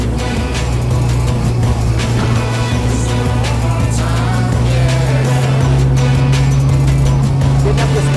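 A bass boat's outboard engine drones loud and steady as it accelerates up to speed, its tone holding then climbing slightly, with water rush and wind underneath.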